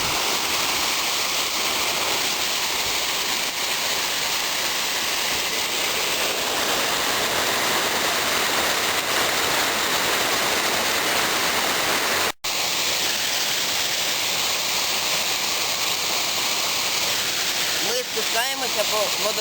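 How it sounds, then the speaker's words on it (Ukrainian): A fast mountain stream, the Zaroslyak in the Chornohora range of the Carpathians, rushes in a loud, steady, close roar that never lets up for the whole stretch. "Ми йдемо по річці, рутець Зарослядський."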